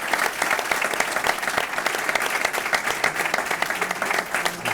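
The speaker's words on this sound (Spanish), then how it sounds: "Y pediría un aplauso de reconocimiento a Marcos de nuevo." An audience applauds at the close of a talk at an event, steady dense clapping from many hands, fairly close and continuous without talk.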